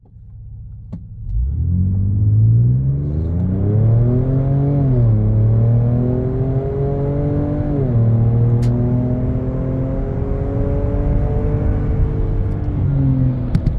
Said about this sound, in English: I'll switch to a little acceleration here and show you how it runs